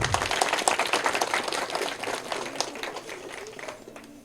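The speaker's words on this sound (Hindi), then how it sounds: "इसके लिए ताली बजना चाहिए कि नहीं?" Audience applause at a school celebration of Savitribai Phule's birth anniversary, loud at the start and fading gradually over four seconds into scattered claps.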